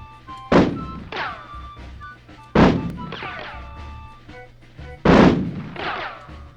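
Three loud single gunshots from the Army Men Sarge's Heroes video game ring out about two and a half seconds apart, each a sharp blast with a short echoing tail over a steady low game background hum.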